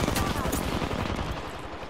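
Enemy squad firing on the player in a battle royale shooter, rapid close bursts of automatic gunfire crackling in quick succession.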